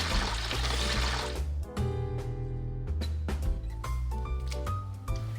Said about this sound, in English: I'm going to add it to another gallon of cold water